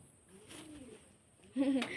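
Racing pigeons give a quiet, low coo early on, followed by a louder, closer rolling coo near the end, against a hushed background.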